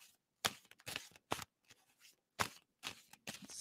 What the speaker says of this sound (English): And tell me I should stop shuffling on that.